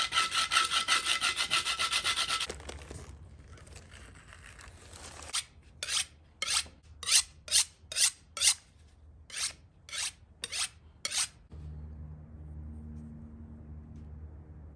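Coarse 10 grit abrasive scraping wood shavings outdoors, starting with a few seconds of continuous rough rasping, then a run of about a dozen separate, evenly spaced harsh scraping strokes up close, ending in a quieter low hum.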